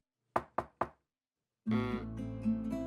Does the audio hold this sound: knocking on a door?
yes